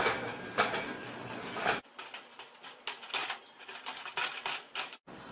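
Cooked beef pieces mixed and mashed by hand with a utensil, no grinder or chopper, for shami kabab: irregular clinks, scrapes and soft knocks against a dish, close and fairly quiet, with brief pauses.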